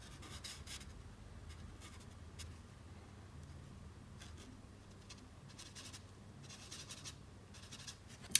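A cool grey 4 marker colours in a drawing with soft, faint scratchy strokes in short bursts and pauses, quiet and close.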